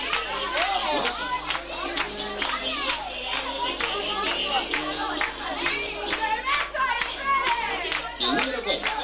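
Children and an audience clap at a group presentation, lively applause blended with kids' voices and crowd chatter for the whole stretch.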